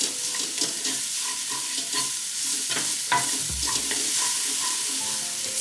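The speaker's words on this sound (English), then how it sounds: "put in the shallots and stir them for maybe 20 or 30" Shallots are stirred in a hot skillet, giving a steady close sizzle broken by scraping and light knocks of a utensil against the pan, with no talking.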